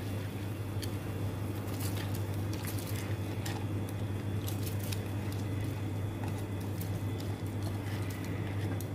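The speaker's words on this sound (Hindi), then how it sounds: "अब मैं इसमें बिस्मिल्लाहिर्रहमानिर्रहीम राइस ऐड करूँगी।" Rice goes into a pot of boiling water for biryani, with a steady, even bubbling and soft pattering crackle throughout over a low hum, close and fairly quiet, with no talking.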